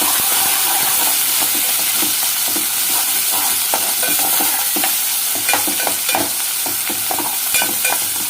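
Onions and curry leaves frying in a pan while being stirred, loud continuous sizzling hiss broken by frequent spoon scrapes and clacks, close up, no speech.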